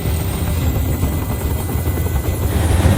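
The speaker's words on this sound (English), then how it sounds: "Tell that helicopter to get out of here." A helicopter hovers close overhead in the video game Detroit: Become Human, a loud, continuous rotor thump and engine drone holding steady throughout with no voices.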